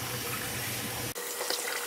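Tap water runs steadily into a sink or tub while a Maltese puppy is bathed and rinsed of shampoo, a close, continuous hiss and splash that briefly cuts out before resuming.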